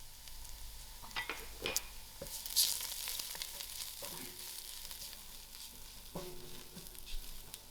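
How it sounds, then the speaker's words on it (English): Freshly crushed garlic dropped into a pot of golden fried onions and leek, sizzling quietly with a soft steady crackle while a spoon stirs and scrapes a few times. "I'm going to add in my garlic that we just crushed."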